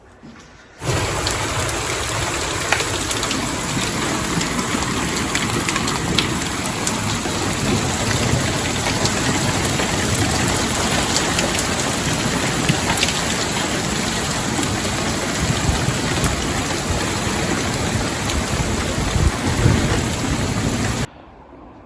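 Torrential rain pours down in a steady, dense roar over a garden and greenhouse, loud and continuous throughout with no voices.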